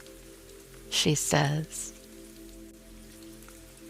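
Steady rain falls softly around a cottage, a continuous even hiss running throughout while someone speaks briefly over it.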